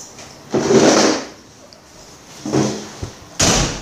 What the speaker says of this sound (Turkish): Şu kapıyı kapatayım, çok ses geliyor.